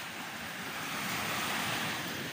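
Sea waves wash steadily onto a shore on a warm early-autumn day, a continuous loud rush of surf with some wind noise on the microphone.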